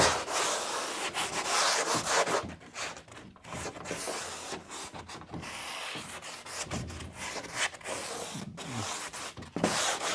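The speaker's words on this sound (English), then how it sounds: "Kind of filing down some weird paint edges right here." A tool rasps and rubs steadily against a painted door, filing down rough paint edges in close, continuous scraping strokes with brief pauses during interior painting work.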